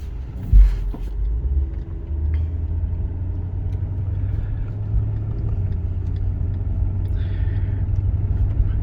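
A 1996 Cadillac Fleetwood Brougham on the move, its engine a steady low rumble with road noise that stays even throughout, after one brief thump near the start.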